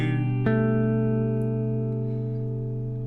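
A sustained guitar note rings out over a held, distorted chord, with a sharp pick attack near the start and a slow decay.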